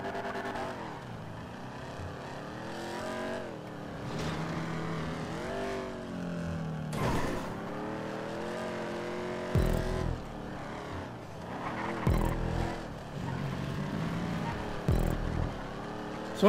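Race cars in Grand Theft Auto Online, including a Pisswasser-liveried car, with engines revving and shifting through rising and falling pitch sweeps, loud and continuous, plus a few sharp bumps and bursts, no talking.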